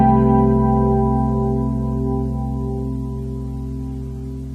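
A sustained extended chord voiced with root, sixth, third, fifth and seventh rings out as one held, warm harmonic block, fading slowly over several seconds with no other sounds.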